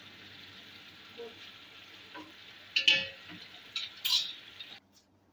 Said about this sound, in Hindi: तकरीबन 5 से 6 मिनट लगेंगे इसको अच्छी तरह से भून लेंगे।